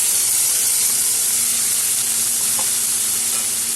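Tomato, green chillies and onion paste fry in a hot pan with a loud, continuous close sizzle and hiss, steady throughout with no voices.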